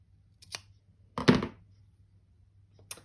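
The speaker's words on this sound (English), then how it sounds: "you can just trim off the triangles of the seam allowance like this" Scissors snip through knit sweater fabric to trim the seam allowance, with a few close, quiet cuts: a short snip, a louder crunching cut, then another brief snip, with no talking.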